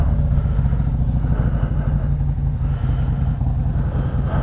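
A motorcycle rides home at night, its engine droning steadily with low rumble and road and wind noise, loud and continuous throughout.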